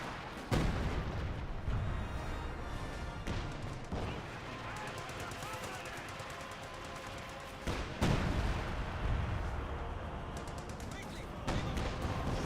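A howitzer barrage thunders in a Company of Heroes 2 battle, with heavy booming impacts and bursts of gunfire recurring through a dense, noisy battlefield din, while a voice talks over it.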